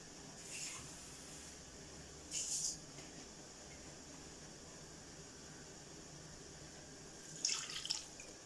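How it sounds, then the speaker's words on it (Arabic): Water is poured from a glass into a pot of Marrakech tanjia meat, heard as a few brief, faint splashing pours separated by quiet stretches. "غادي نضيف نص كاس ديال الماء"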